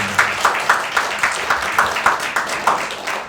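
Audience applause at a talk, rhythmic clapping in unison with evenly spaced beats, loud and close, continuing steadily without voices.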